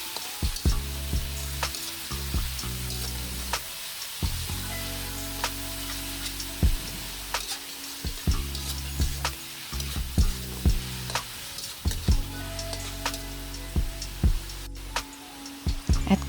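Chicken and prawns frying in a pan while being stirred, a steady loud sizzle with repeated scraping and clinking of the utensil against the pan, close up.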